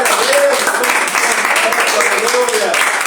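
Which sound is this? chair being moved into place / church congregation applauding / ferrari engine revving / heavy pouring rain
church congregation applauding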